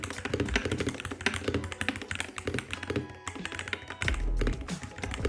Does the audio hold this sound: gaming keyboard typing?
yes